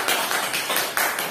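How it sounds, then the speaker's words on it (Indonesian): Applause from a class of students for a student group, a dense, steady patter of claps close by with no voices over it. "tepuk tangan untuk kelompok Mas Razi."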